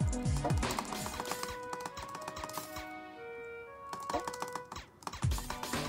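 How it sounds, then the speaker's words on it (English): Rapid, irregular clacking of computer keys being hit hard during a video game, mixed into a busy background of game sounds and music. "Probably hear me banging on my keyboard."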